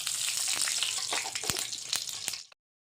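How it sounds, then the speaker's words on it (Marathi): Cumin seeds sizzling in hot oil for a spicy broccoli dish, a loud steady crackle with sharp pops that cuts off abruptly. "आता आपलं तेल मांडलेलं आहे, तेल गरम झालेलं आहे. यामध्ये आता जिरं टाकायचं"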